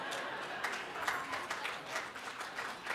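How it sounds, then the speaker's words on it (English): Audience applause breaking out partway through a dinner speech, a steady wash of many hands clapping at moderate volume with no words over it, continuing across the whole stretch. "Applause break during salad is a big deal."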